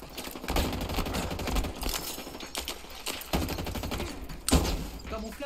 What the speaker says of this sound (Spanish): te estoy disparando